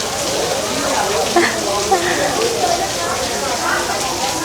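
Rain falls near Wat Arun by the Chao Phraya River in Bangkok, a steady close hiss that runs throughout while people talk over it.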